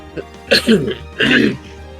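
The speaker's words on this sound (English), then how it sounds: "it's just a series of everyone coughing" Several people cough and clear their throats in a few close, rough bursts with short pauses between them.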